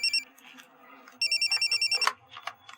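A telephone rings with a rapid electronic warble, one short burst and then a longer trilling ring, close and clear, with a few faint rustles and a brief voice between rings.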